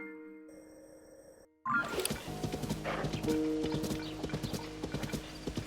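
A horse in The Legend of Zelda: Tears of the Kingdom breaks from near silence into rapid, rhythmic galloping hoofbeats with a brief whinny, up close and loud, with no speech over it.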